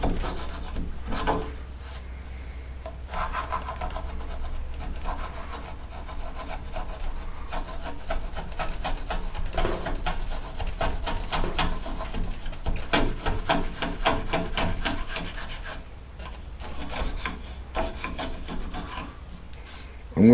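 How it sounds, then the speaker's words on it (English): A multi-tool or painter's scraper drags across old paint on a steel exterior workshop door, giving quiet, continuous rasping and rubbing strokes close to the microphone. "a multi-tool or a painter's tool just to come through and scrape this stuff off"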